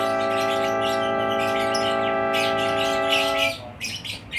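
Lovebird during breath training, a loud sustained run of harmonic chirping and squawking close by, continuous for over three seconds before breaking off into softer scattered calls.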